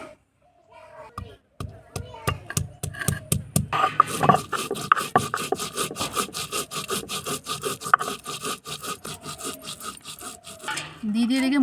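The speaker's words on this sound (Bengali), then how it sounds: "দিদি এদিকে মশলাগুলো বেটে নিচ্ছে" Ginger, cumin, onion, green and dried chili and mustard being ground on a grinding stone: a close, steady run of rhythmic scraping and rubbing strokes, first a few separate strokes, then fast continuous grinding.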